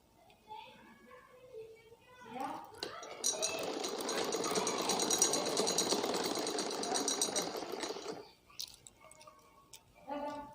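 A sewing machine stitching fabric for an umbrella frock runs in a steady, fast mechanical whir for about six seconds, with a voice talking briefly before and after.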